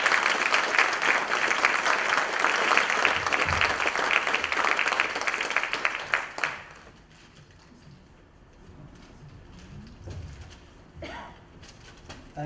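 A lecture audience claps warmly for barbecue historian and author Jim Auchmutey, dense applause filling the room for about six seconds before fading into quiet shuffling and faint room noise.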